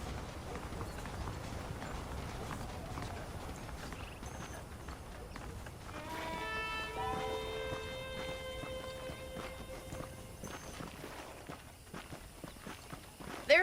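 Horse hooves clip-clopping in a steady walking rhythm in the video game Red Dead Redemption, with a bright ringing chime sustained partway through and low background ambience.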